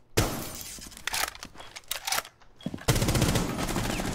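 Gunfire in Rainbow Six Siege, with a few sharp close shots and breaking, shattering impacts, then a loud sustained burst of automatic fire near the end.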